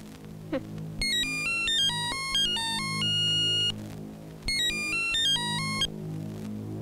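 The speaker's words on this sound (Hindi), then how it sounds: "जाइए, जाकर फोन उठाइए।" A telephone rings with a bright electronic melodic ringtone, repeating in two bursts of stepped tones over a low background hum, loud and close.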